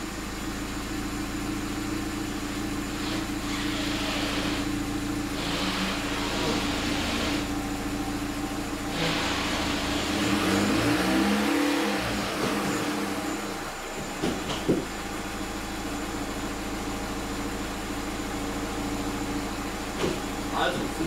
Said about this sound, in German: Starten wir mal das Auto.